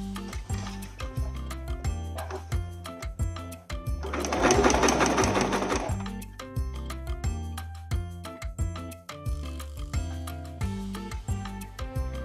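A sewing machine runs in a steady burst of stitching while gathering fabric for smocking, starting and stopping in short runs with a longer continuous whir in the middle, close and clear with no talking.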